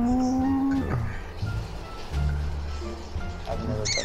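A cow moos in the zombie video game Dead Ops Arcade 2, a loud drawn-out bellow at the start, followed by busy game noises.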